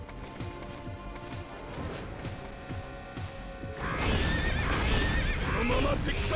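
Horses whinny and neigh loudly over steady rhythmic hoofbeats in the video game Sengoku BASARA, with a crashing burst of noisy action joining partway through.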